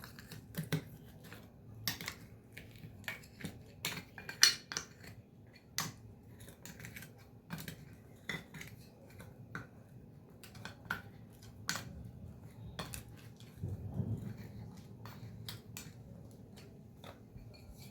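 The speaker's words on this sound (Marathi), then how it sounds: "इथे मी आपलं कापूर घेतलेला आहे तो आपण अशा प्रकारे वाटून घेऊया" Camphor being crushed into fine powder at home while making incense, giving a run of sharp, dry clicks and scrapes at close range over a low background hum, with no talk.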